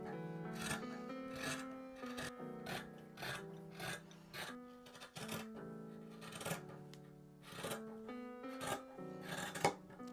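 Scissors cutting a large rectangle of fabric for a sweater: a quiet series of rasping snips and rubbing strokes in an irregular rhythm, close by, with a faint tonal hum underneath and no speech.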